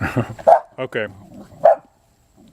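A dog barks a couple of times, sharp and fairly close, while a person talks over and between the barks.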